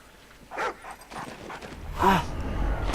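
Dogs bark, yip and whimper in a Call of Duty Ghosts campaign mission, a few short close bursts over a low game backdrop.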